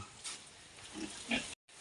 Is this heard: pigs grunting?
yes